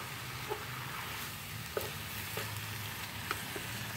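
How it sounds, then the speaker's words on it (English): Ground venison sizzles steadily in a 9-quart Lodge dutch oven, a low constant frying hiss with a few faint scrapes and taps from stirring, close and quiet, no voices. "I've got all the uh, ground venison browned up."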